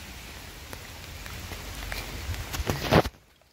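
Rain falls in a park, a steady soft patter of drops with a few sharper taps on nearby surfaces, growing busier toward the end before cutting off abruptly.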